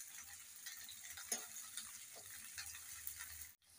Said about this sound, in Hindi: अभी हम सिर्फ इसमें भिंडी डालेंगे क्योंकि भिंडी को हमें अच्छे से फ्राई करना है